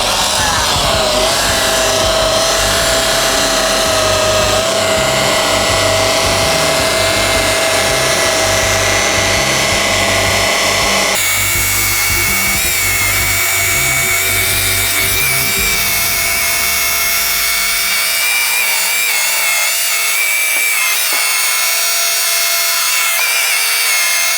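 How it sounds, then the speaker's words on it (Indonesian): A machine polisher with a wool pad runs continuously through the cutting stage on the paint of a Mitsubishi Xpander. It gives a loud, close, steady whine that shifts in tone partway through and thins out toward the end. "Kita mulai tahap ke poles yang tahap cutting. Nah, ini kita pakai wool ya."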